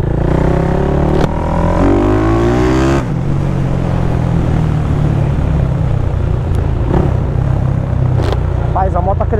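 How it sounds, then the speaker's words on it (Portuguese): A remapped Honda Start 470cc motorcycle revs hard on a street, its engine note sweeping up and down in loud surges with a sharp blip near the end, while someone talks over it. "Rapaz, a moto tá crescendo de alta de um jeito."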